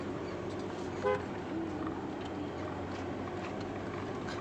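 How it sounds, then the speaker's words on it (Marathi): A vehicle comes along a village road near Kelshi and gives a short, clear horn toot about a second in, over a steady low rumble of engine and road noise. "ती गाडी येते"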